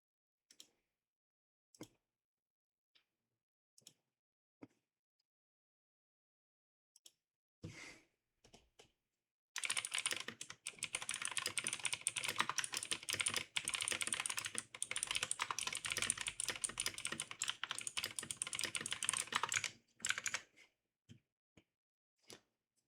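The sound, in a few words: typing on a computer keyboard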